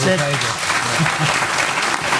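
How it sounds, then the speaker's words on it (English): An audience at a Maida Vale studio special about The Clash breaks into a round of applause, a broad wash of clapping heard under and after a voice speaking at the start. "I think a round of applause now"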